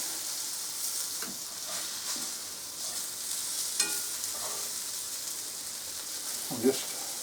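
Liver, bacon and onions fry in a pan with a steady, loud sizzle, and now and then a utensil scrapes and clinks as the food is stirred and turned.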